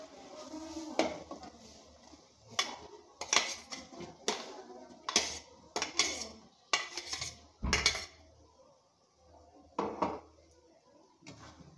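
Fried potatoes go into spiced oil in a pan for a potato and fish-head curry, heard as a run of sharp, close clinks and clatters of utensil against cookware with short gaps between them and no talking.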